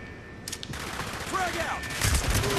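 Gunfire in a Call of Duty Black Ops team deathmatch, with shots crackling in steady bursts under constant game noise and effects, loud and close, while a player talks over it.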